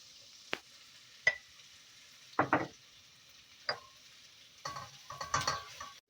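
Flour roasts with sautéed onions in a pot for tarhana soup, heard as a few quiet, separate spoon scrapes and short soft sizzles spaced out over several seconds, with a clustered flurry of stirring near the end.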